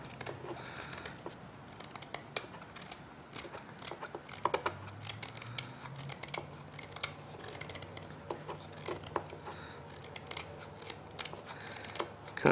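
A knife from a Fox Ridge Arms knife making kit carving wood, making repeated short scraping and shaving strokes in an uneven rhythm, close and soft, with no talking.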